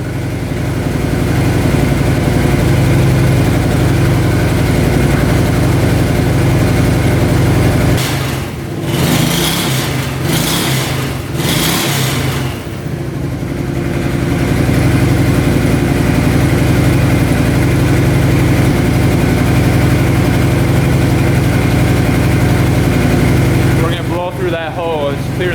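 An ATV engine idles after a carburetor clean and valve adjustment, a loud, steady, close-up drone that holds even throughout with only brief dips and a short rattle near the end.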